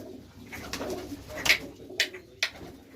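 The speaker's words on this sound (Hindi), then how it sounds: "बाकी जनाब है कबूतर इन्होंने जोड़ियां वाले" Pigeons kept in pairs in a rooftop loft with wooden trays coo softly nearby, several low throaty calls with a few brighter wingy rustles or chirps spaced out over a few seconds.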